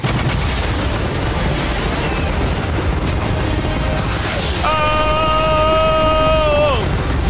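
Heavy gunfire unloads on a yacht as a dense, continuous barrage of shots and booms. A rising, wailing tone cuts through near the end.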